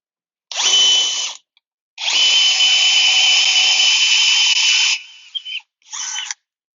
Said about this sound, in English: take your drill with the bit that's included and drill a hole through the deck board